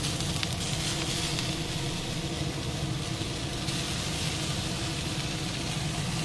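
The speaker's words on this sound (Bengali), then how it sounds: "পেঁয়াজ কুচি, রসুন, ধনে পাতা কুচি একটু রোস্ট করে নিচ্ছি তেলে নেড়ে ফেলে" Onion, garlic, coriander leaves and tomato frying in hot oil, a faint, steady hiss and sizzle that continues without a break.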